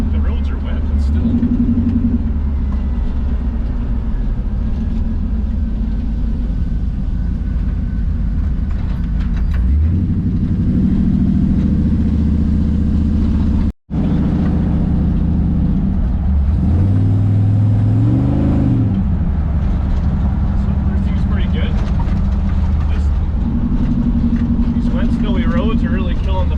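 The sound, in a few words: LS-swapped 1957 Chevy revving, doing a burnout in snow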